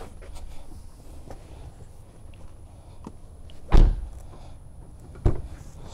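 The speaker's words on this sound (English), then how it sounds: "Now let me go ahead and close the door and open it up so it can turn on." A BMW car door shuts with a sharp thump and then opens with a second, fainter clunk about a second and a half later, over quiet background noise.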